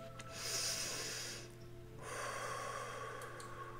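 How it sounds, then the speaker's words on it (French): A slow, deep breath taken in and then let out, two long airy rushes close to the microphone over a quiet background hum. "Alors, une respiration."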